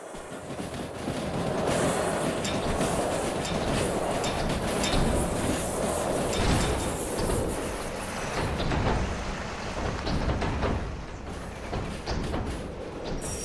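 A DM3 diesel locomotive hauls a heavy freight train of about 850 tons in the Derail Valley video game, giving a loud, steady engine rumble with rolling wheel noise that continues throughout.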